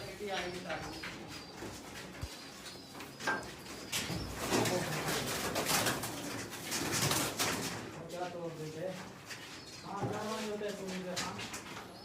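Pigeons coo in soft, repeated warbling calls at a breeding setup, close by, while someone talks over and between them.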